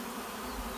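A honey bee from a top bar hive buzzes right up close, a steady, loud drone with no pauses, heard alone.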